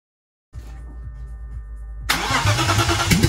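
After brief silence, a BMW M50 engine in a Toyota Celica cranks with a rhythmic starter whir, started by shorting two wires, then catches and bursts into a loud, rough running roar.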